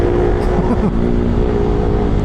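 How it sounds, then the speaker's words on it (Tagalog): Steady engine drone from a motorcycle on a night ride through road traffic, with passing vehicle sounds blending into a loud, continuous rumble throughout. "Ayun na traffic."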